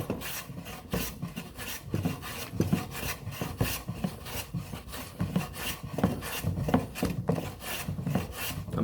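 Hand plane shaving small wooden pieces in a school building and construction class, a run of close, rasping strokes in an uneven rhythm, with no voices.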